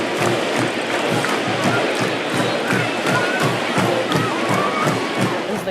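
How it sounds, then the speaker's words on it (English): Football stadium crowd roaring, a loud continuous roar of many voices with rhythmic pulses, like clapping or chanting, running through it. "As the crowd roars,"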